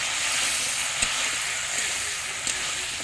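Prawns fry in a hot pan for a coconut, chickpea and taro-leaf dish, giving a steady loud sizzle and hiss with a few soft clicks of stirring.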